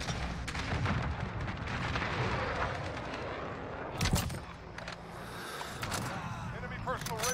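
Gunfire during a video game match, a steady wash of distant shooting and impacts with a sharp louder burst near the middle, under faint background talk.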